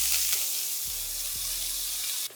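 Heavy whipping cream pours into a hot pan of rendered pork fat, giving a loud, continuous sizzle and hiss with a couple of low thumps, taken off the heat.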